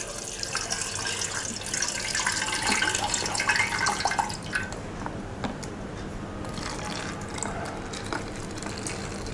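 Water streaming from holes punched in a filled plastic bottle, a splashing, trickling flow that is busiest early on, then settles into a steadier, softer patter with occasional drips.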